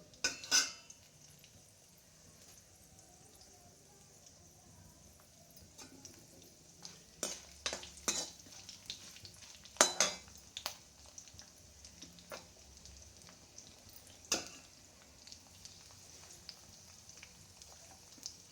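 Chana dal, mustard seeds, cumin and peanuts fry in hot oil in a pan for a bitter gourd curry, giving a steady soft sizzle punctuated by sharp clinks and scrapes of a stirring spoon against the pan, with no talking.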